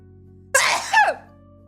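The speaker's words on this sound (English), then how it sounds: "I think I just have to sneeze." A single close sneeze bursts out abruptly, followed by a brief second voiced gasp tailing off, with a steady low background hum before and after.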